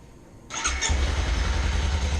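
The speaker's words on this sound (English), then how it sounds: "let me fire this engine up." A Kawasaki Versys-X 300 motorcycle engine cranks briefly and fires up, then settles into a steady, close idle rumble, with no talking.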